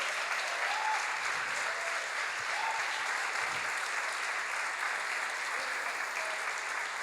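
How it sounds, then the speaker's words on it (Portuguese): A church congregation claps steadily during a temple anniversary service, with a broad, even wash of applause at moderate distance and a few faint voices beneath it. "Aplaude Jesus Cristo, né?"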